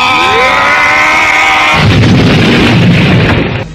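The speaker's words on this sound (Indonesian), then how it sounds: "Ledakan keras terjadi." A loud explosion sound effect erupts after a rising tonal whoosh, a dense roaring blast that fills the space for nearly two seconds before cutting off abruptly.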